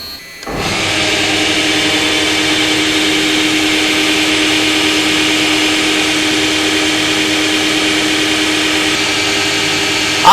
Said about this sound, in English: we have to switch on the motor by hitting the green button over here